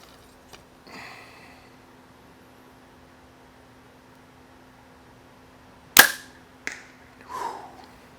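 A Hoyt compound bow being shot once: a sharp, loud crack of the string release, followed by a few quieter thuds and rattles, in an otherwise quiet outdoor setting.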